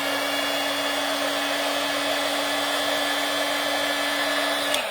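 A heat embossing tool blows hot air onto a card, making a loud, steady close whoosh with a constant motor hum that winds down at the very end, with no speech.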